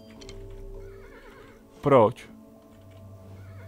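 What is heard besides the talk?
tired horse neighing in video game Kingdom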